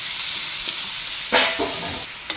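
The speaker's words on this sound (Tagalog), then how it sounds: "papalabasin natin yung mantika niya guys lumabas na yung mantika ng karne" Meat sizzling and frying in its own rendered fat in a pan, a steady crackling hiss with a louder burst of spatter partway through, close and alone with no talk.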